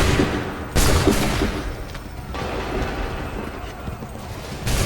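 Volley of gunfire from a line of shooters after a command to fire, a dense burst of shots that starts abruptly and settles into a rolling crackle and rumble, loud and close.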